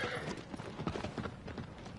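Horse hooves clip-clop at a steady trotting rhythm in the Shadow of the Colossus remake video game, a quiet, even run of hoofbeats with no talk over them.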